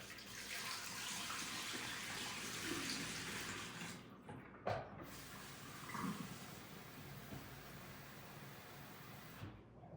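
Running water pours steadily into a Brita filter pitcher, a constant close rushing hiss with a brief clunk midway and a sudden stop near the end.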